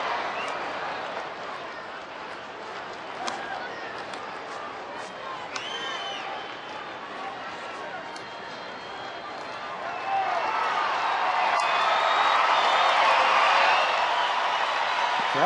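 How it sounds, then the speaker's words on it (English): A baseball crowd stands and cheers in the stadium, a broad roar with scattered whistles and shouts that swells louder near the end, heard under a commentator's voice. "Crowd's still on their feet cheering."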